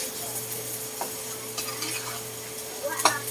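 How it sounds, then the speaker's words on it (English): Onions are stirred rapidly in a frying pan with Italian seasoning and oregano, a soft steady sizzle broken by repeated scraping strokes and light utensil clicks against the pan, close up and without talking. "And you notice I am stirring pretty rapidly."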